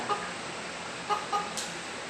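A few short, sharp chicken clucks, spaced irregularly, over a steady hiss of background noise.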